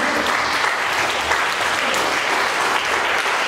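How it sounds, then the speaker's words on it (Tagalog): Loud, sustained applause from a church congregation at a Sunday service, dense steady clapping filling the whole stretch with a few voices mixed in. "Malakas na palakpak sa Panginoon."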